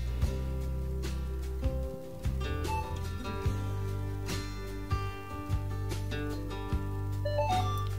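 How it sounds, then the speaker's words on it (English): A Minelab Equinox metal detector updating and restarting plays a string of electronic beeps and short chime-like tones over a steady low hum, with occasional clicks. "That's the sound of our Equinox updating and restarting."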